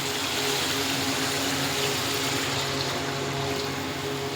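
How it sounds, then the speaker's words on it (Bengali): Water poured into a pan of thick fish curry gravy for a snakehead (shol) fish dish, a steady continuous rushing pour filling the whole stretch at even loudness with no talk. "তো বন্ধুরা, এবার জলটা দেবো।"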